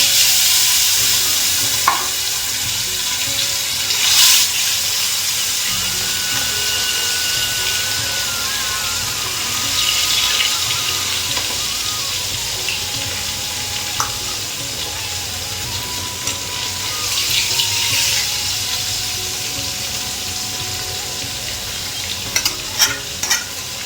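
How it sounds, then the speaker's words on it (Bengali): Pomfret (rupchanda) fish sizzle and crackle steadily in hot oil with a little salt for the whole stretch, with a few scattered clinks and scrapes from utensils. "তেলের মধ্যে অল্প লবণ দিয়ে মাছগুলো ভেজে নেবো"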